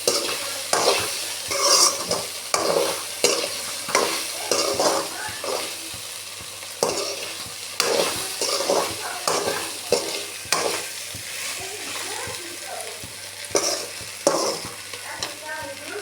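Okra sautéing in a pan for a South Indian stir-fry, with repeated scraping stirs in an uneven rhythm over a steady low sizzle, close and moderately loud throughout.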